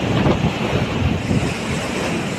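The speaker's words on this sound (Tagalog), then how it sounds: "Ayan, kalakas ngayon guys ang alon." Strong ocean waves in a rough sea off Africa, heard from aboard a ship: a loud churning, surging wash with heavy wind buffeting the microphone, continuous and close.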